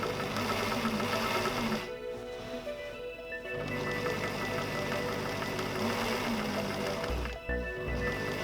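A sewing machine stitches fabric in long continuous runs, a loud close mechanical whir that pauses briefly twice and ends with a few clunks, with no talk over it.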